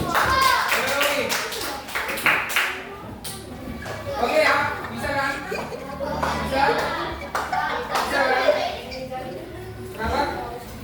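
Children in a supervised classroom clap their hands in quick bursts, close and lively, mixed with lots of children's chatter and an adult's voice throughout.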